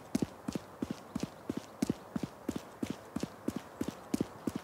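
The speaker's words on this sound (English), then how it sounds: "We have very loud footsteps." Loud player footsteps in the horror golf survival game Greener Grass Awaits thud in a steady walking rhythm, roughly two quick steps per beat, each one close and heavy.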